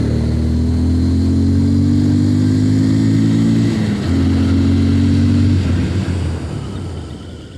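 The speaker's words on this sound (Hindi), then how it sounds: "0 to 60 पे फ्रंट ब्रेक टेस्ट करते हैं पहले।" A TVS Apache RTR 160 2V or Bajaj Pulsar 150 Twin Disc motorcycle engine pulls hard and close while accelerating toward 60 km/h, its rising drone dipping briefly at a gear change before climbing again and easing.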